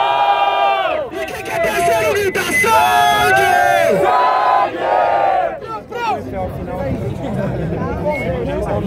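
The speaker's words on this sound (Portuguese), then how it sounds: "Barulho pro Tito." Crowd at a Brazilian rap battle cheering and yelling loudly in bursts of whoops and shouts, tapering off toward the end.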